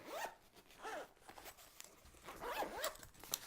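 Zipper pulled closed on a padded charcoal-gray iPad Pro laptop case, several quick rasping zip strokes close up, fairly faint, with no talking.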